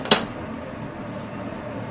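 A single sharp metallic clank of a frying pan with a detachable handle near the start, then quiet kitchen background.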